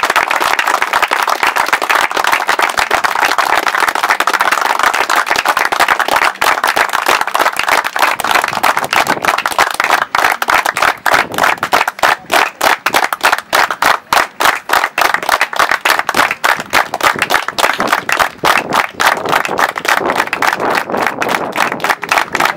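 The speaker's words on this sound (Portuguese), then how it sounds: "vamos agradecer primeiro a Deus e a todas essas pessoas com um minuto de salva de palmas" An audience gives a long round of applause, loud and sustained at first, then breaking into rhythmic, evenly timed clapping.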